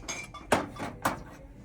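A ceramic butter dish handled at a thrift store, two crisp clinks of the lid and base knocking together amid faint shuffling, close and fairly quiet.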